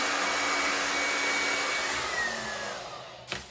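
Hair dryer or heat gun blowing steadily on a lace while it is warmed, a loud continuous whooshing rush that holds for about three seconds, then cuts off, followed by a couple of brief handling knocks.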